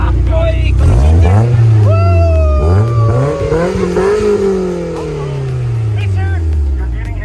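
A car engine revs up and down several times, loud and close, with rising and falling pitch sweeps and voices faintly in the background.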